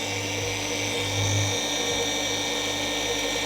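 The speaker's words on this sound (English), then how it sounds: "And as you see, the pad is still spinning and oscillating." Oscillating polisher pad spinning on car paint, a close, steady high whine with a low hum beneath and slight wobbles in pitch, no talking.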